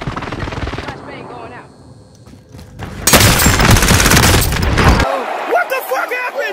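A flashbang grenade goes off in a first-person shooter video game, a loud harsh burst lasting about two seconds amid gunfire, followed by excited voices talking.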